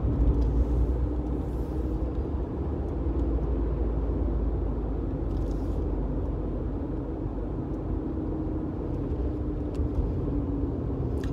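Interior of a Mercedes 190E on the move, a low steady engine and road rumble with muffled tire noise, quiet and even throughout with no voices.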